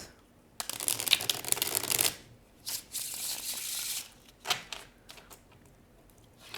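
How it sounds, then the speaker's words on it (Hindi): Tarot cards shuffled by hand in close, quiet surroundings, a loud sustained riffling burst followed by several shorter, softer shuffles. "One last shuffle."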